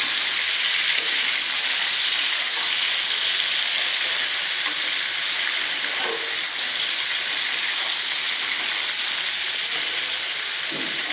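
Ginger frying in a karahi for chicken karahi makes a loud, steady hiss of sizzling oil, close up and constant with no pauses.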